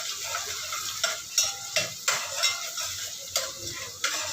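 Onions sautéing in a pan with Himalayan salt being added, a steady sizzle and frying hiss with intermittent scraping stirs and light taps of a utensil against the pan, close and moderately loud, with no talking.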